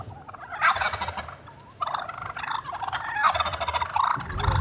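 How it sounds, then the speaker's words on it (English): Wild turkeys in Maury County, Tennessee, gobble repeatedly in loud, rattling bursts over a few seconds, fairly close outdoors with no talk. "we are trapping turkeys, wild turkeys"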